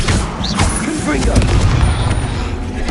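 Booming spell blasts from Confringo being cast in Hogwarts Legacy, a dense, loud burst of crackling impacts over rumbling game noise, with a voice shouting over it.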